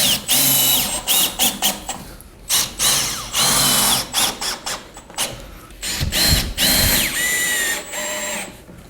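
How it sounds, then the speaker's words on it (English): A power screw gun drives decking screws into the post of a log kayak storage rack, a loud whirring run broken into many short bursts with brief pauses between screws. "We'll get our 3 decking screw and the screw gun with the green tip."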